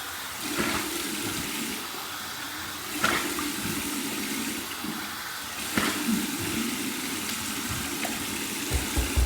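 Three close splashes of cold rinse water hit a face after shaving with a vintage Gillette Trac II razor. They fall at irregular intervals over a steady rush of running tap water.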